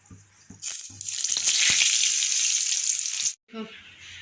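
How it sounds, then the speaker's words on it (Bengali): Potatoes dropped into hot salted oil burst into a loud, close sizzle that holds steady for a few seconds, then cuts off abruptly as a voice speaks briefly afterward. "আলুগুলোকে একটু ভেজে নিই।"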